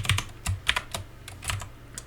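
Code is typed on a computer keyboard during a programming tutorial. Close, crisp keystroke clicks fall in an irregular quick rhythm with no voices.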